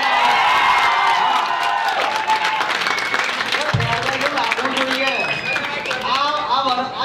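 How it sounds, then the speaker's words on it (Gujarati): A crowd of 12th-standard students at a school farewell party applauds and cheers loudly, with continuous clapping, whoops and overlapping shouts in a lively, echoing room. "તાળીઓ પાડો, ફ્રીમાં જ છે એના ઉપર."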